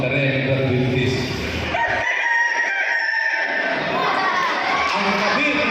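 A rooster crows loudly nearby amid a noisy crowd, with clucking fowl and chatter around it.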